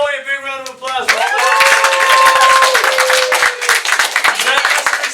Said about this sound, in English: So let's give Noe a big round of applause.